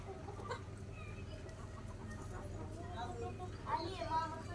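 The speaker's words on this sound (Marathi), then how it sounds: "इकडं घास खात्यात कोंबड्या." Chickens eating grass in a village yard give soft, scattered clucks over a steady rural background hum, with a couple of sharper calls near the end.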